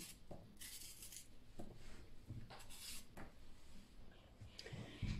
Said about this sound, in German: ich schneide sie jetzt auch in so kleine Streifen